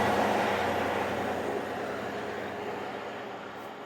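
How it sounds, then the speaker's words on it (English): A steady, broad rumble of a train rolling by on Millhall Road, Stirling, Scotland, loud at first and slowly easing off over a few seconds, with no voices. "There's a train coming."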